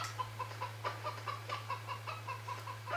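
Chickens cluck repeatedly in Farming Simulator 2013, a steady stream of short, moderately close clucks over a constant low hum with no talking.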